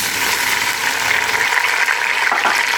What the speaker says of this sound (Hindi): इसमें हमने थोड़ा सा पानी का छींटा लगाना है